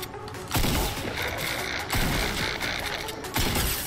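Bursts of SCAR assault rifle fire in Fortnite, loud and close, with sharp volleys recurring every second or so over a busy, noisy game background.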